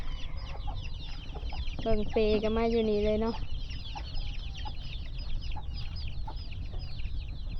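Chickens and small chicks clucking and cheeping on a Thai village farm, near and steady, with a rooster's drawn-out call rising briefly in the middle and a person speaking in between.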